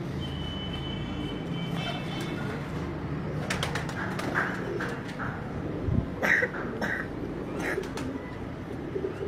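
A Khaksira pigeon at a pigeon fanciers' gathering in Karachi coos softly in repeated low calls, with other birds chirping and chattering nearby against a steady murmur of outdoor background noise.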